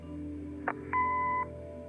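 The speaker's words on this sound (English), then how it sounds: "Leave a message after the beep." A short electronic beep from an answering machine in the point-and-click game Kathy Rain sounds after a brief click, a steady tone of about half a second in a quiet room.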